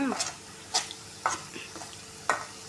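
Mint rice masala fries in oil in a pan, a soft sizzle broken by a few sharp scraping stirs of a spoon at irregular intervals, close and fairly quiet.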